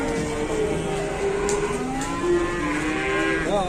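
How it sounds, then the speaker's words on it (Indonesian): Pegon Simmental crossbreed cattle moo loudly and close by in long, drawn-out bellows that overlap one another over a steady background hum. "Sapi yang pertama jenis campuran pegon simental ya."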